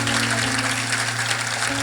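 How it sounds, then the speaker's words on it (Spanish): Church congregation applauding during a sermon, a steady wash of clapping under a low sustained tone, moderately loud and continuous throughout. "Le puedo dar un aplauso al Señor"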